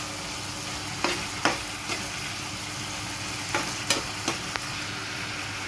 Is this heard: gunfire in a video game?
no